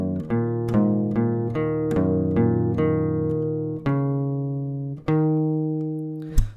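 Fingerstyle acoustic guitar plays the pre-chorus riff of Hozier's NFWMB, evenly plucked notes ringing over one another, then a few longer sustained strums that fade out, close-miked with no voices.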